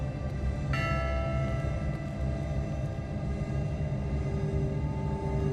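A bell struck with its clapper rings out in the video game WILL: Follow the Light, one clear strike with a long, sustained metallic hum over a low rumbling background.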